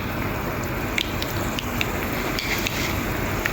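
Mustard seeds splutter in hot oil as a dense, continuous crackling hiss, close and fairly loud, with faint sharper pops scattered through it and no talk.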